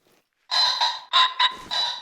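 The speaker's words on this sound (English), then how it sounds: "that is the warning call of another rooster over there" Pheasant rooster warning call in the hunting game theHunter: Call of the Wild, a harsh, bright series of squawking bursts after a brief silence, fairly close and clear with no talk over it.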